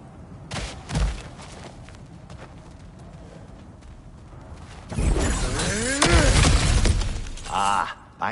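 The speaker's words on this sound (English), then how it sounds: "back to smashing through things for fun and profit" A cracked wall breaking apart in God of War Ragnarök, a loud crashing burst of shattering debris and heavy impacts that rumbles on for a few seconds, following a quieter stretch with an earlier thud.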